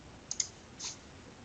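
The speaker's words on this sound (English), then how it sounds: "We're going to click this button" Faint, close mouse clicks: a quick double click followed by a single softer click on a button, with a quiet background and no talking.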